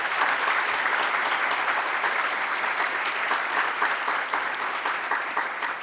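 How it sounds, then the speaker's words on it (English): An audience applauds at the opening plenary session of a student research conference, a dense, steady round of clapping from many hands that holds strong before easing slightly toward the end, with no talking. "Can I have a round of applause for the amazing team?"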